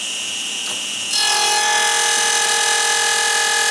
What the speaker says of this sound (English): I'm doing climb milling only, and I'm taking off 5/1000ths at a time.